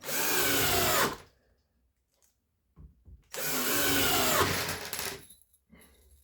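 A nine-year-old cordless drill-driver whirs loudly in two bursts of about a second each, separated by silence, its spin sounding uneven and rattly, with a brief low knock in the gap.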